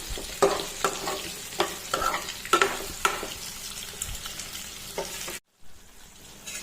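Brinjal curry masala fries in a pan, a close, steady sizzle broken by a ladle's repeated scraping and clinking strokes, before a brief silence and a quieter continuing sizzle.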